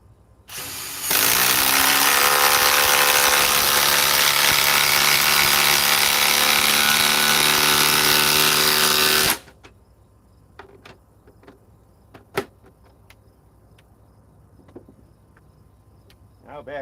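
A Ryobi power saw rips through wood for about eight seconds, a loud, harsh, constant buzzing cut that starts and stops abruptly, followed by quiet with scattered small knocks and handling clicks.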